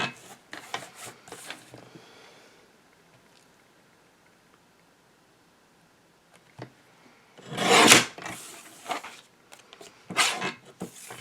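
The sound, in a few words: cutting an old Christmas card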